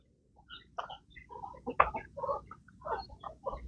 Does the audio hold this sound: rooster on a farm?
yes